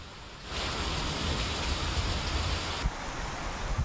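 Heavy rain with thunder and lightning pours down near a temple in Gudivada, Andhra Pradesh, making a steady, dense broadband roar that begins abruptly and continues unbroken, with a slight shift in tone near the end.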